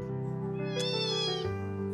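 A cat meows once, a clear rising-and-falling cry that stands out over a steady low background hum.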